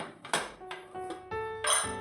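A pressure cooker lid being opened after cooking vegetable pulao makes a handful of close, sharp metallic clanks and ringing rattles spread across two seconds, with no voices.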